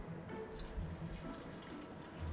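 Boric acid solution being poured into glue to make slime, a soft steady liquid pour with faint splashing, quiet and continuous, with no talk over it.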